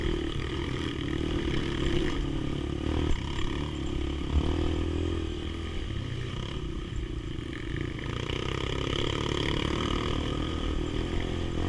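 A Honda CRF dirt bike rides a slippery earth trail on the Hambalang–Cisadon route, its engine droning steadily and fairly quietly throughout with rough revving and clattering over the uneven ground.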